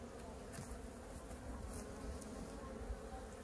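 Crowded honeybees swarm over the wooden frames of a hive box that has grown too small, their buzzing a steady, dense drone close by with no voices.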